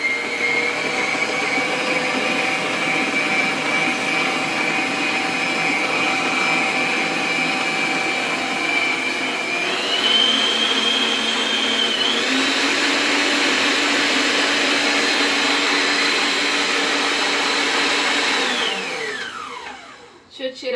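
An electric mixer beats chocolate cake batter with a loud, steady motor whine. It steps up in speed partway through, runs on, then winds down and stops.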